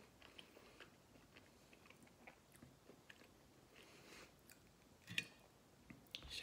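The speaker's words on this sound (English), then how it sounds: "I'm still chewing." Sugar snap peas are chewed close up, giving faint, irregular crisp crunches and soft mouth noises, with a few sharper bites standing out near the end.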